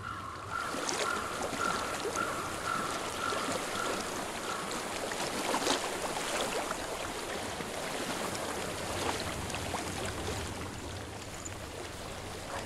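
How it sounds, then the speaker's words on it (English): Flowing water runs through a scene in the video game Hellblade: Senua's Sacrifice, a steady, soft rushing wash that carries on without pause, with no voices over it. "I hear water."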